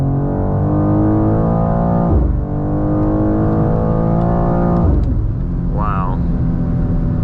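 A 2024 BMW M2 G87 pulling away in M2 mode, engine note rising through the revs, dropping briefly on a gear change and climbing again, loud and close from inside the car.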